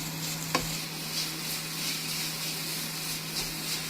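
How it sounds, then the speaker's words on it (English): Noodles pre-frying in a pan over high heat for an Asian salmon noodle dish, giving a steady, quiet sizzle with soft stirring scrapes and one brief sharp clack near the start, no talk. "we've given our noodles a little pre-cook on a nice high heat"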